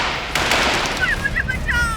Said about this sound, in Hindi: इतनी गोलियां क्यों चला रहे हो?